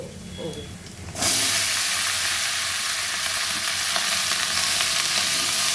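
Chopped spring onion stalks and potatoes hit hot oil with garlic in a pan for a prawn curry, bursting into a loud, steady sizzle after a quieter moment of scraping, and the frying hiss holds strong to the end.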